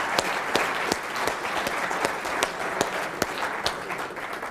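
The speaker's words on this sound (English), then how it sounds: "we'll give Martin a round of applause" Seminar attendees give sustained applause for the speaker Martin after a talk on trading tactics, a thick even wash of clapping from a large room with occasional crisp louder claps popping through.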